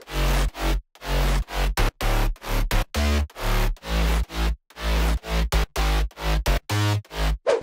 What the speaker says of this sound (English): So our bass all together will sound like this.